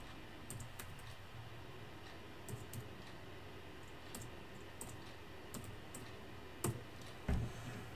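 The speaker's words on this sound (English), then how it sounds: "So let's type" Quiet, close typing on a computer keyboard, a sparse and irregular patter of soft key clicks with a couple of louder taps near the end, no speech.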